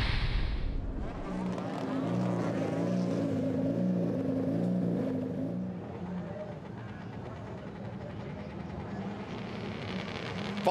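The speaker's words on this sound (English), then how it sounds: "It's round 8 of the Dunlop MSA British Touring Car Championship from Thuruxton, and it is go." A pack of touring cars launching at the start of a round of the British Touring Car Championship at Thruxton, engines droning and revving together at a distance, steady and sustained, with a commentator talking over the noise.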